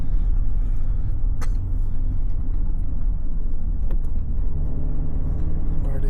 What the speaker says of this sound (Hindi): अब स्टार्ट करके अब आगे की तरफ बढ़ रहे हैं धीरे धीरे